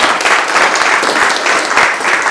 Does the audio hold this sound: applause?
yes